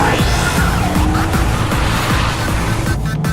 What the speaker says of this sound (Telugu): ఏంట్రా ఎప్పుడు లేని ఈరోజు ఇంత ట్రాఫిక్ ఉంది.